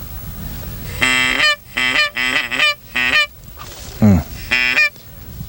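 Geese flying in during a prairie goose hunt give a series of loud, nasal honks in several quick bursts, close and clear over faint background noise.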